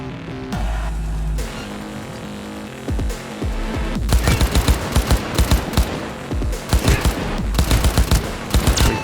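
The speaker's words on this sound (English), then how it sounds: "Recoil on this gun is so strong." Rapid bursts of heavy gunfire from a hard-recoiling gun in Cyberpunk 2077, loud and close, firing in clustered volleys of sharp shots over a background of game sound, with no talking.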